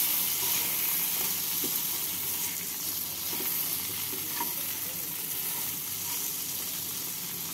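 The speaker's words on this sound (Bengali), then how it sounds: "নুন দিয়ে পটলগুলোকে হালকা লাল করে ভেজে" Pointed gourd (potol) pieces fry in oil with salt in a pan, giving a continuous close sizzle with occasional stirring and scraping, no voices.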